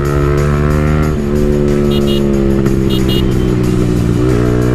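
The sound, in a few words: Yamaha R15 V3 motorcycle with modified exhaust revving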